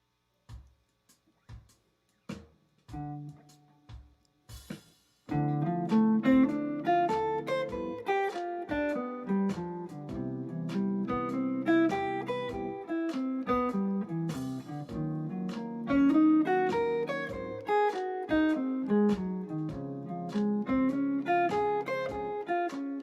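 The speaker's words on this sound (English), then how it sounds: "So the backing track itself sounds like this." Slow jazz backing track for 2-5-1 guitar arpeggio practice: a few sparse chord stabs, then a steady walking groove of piano chords, bass and drums at an unhurried tempo, with no voices.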